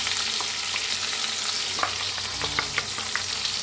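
Ground masala paste roasting and being stirred in a pan gives a steady sizzling hiss, with scattered scrapes and taps from the spoon. No one speaks.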